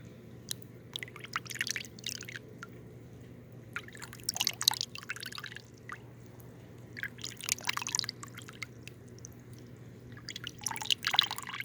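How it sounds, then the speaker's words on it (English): Quiet water dripping and trickling in small irregular bursts in a fountain over a steady low hum, close and soft. "other fountains that allow the water to drip in there like that to create that sound"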